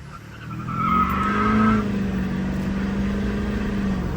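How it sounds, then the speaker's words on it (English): A Duramax diesel pickup truck accelerating hard, heard as a loud engine surge that rises quickly and then holds a strained, droning pitch, with a brief tire-squeal-like whine near the start. "dude, just go take a rip in your DURAMAX."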